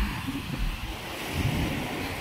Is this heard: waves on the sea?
yes